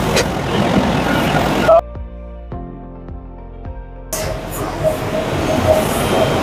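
A gas-fired upsetter forging machine upsets the end of a tire iron bar, giving loud, steady industrial roaring that drops to a quieter humming lull with tonal ringing midway before the heavy noise returns.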